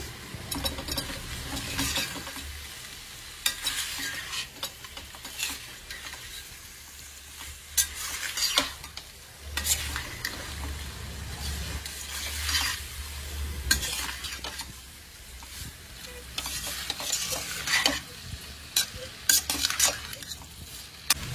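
Fried chicken being stirred into a Meghana-style Bangalore biryani in a pot, with repeated scraping strokes and clinks of a spoon over a low sizzle, fairly close and without talk.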